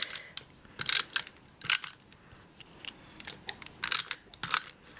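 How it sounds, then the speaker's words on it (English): A tape runner lays snail adhesive onto a paper piece for a handmade Minion greeting card, giving a close series of short, crisp clicking and tearing bursts in an uneven rhythm, with no talk. "So I'm going to put some regular tape runner snail adhesive"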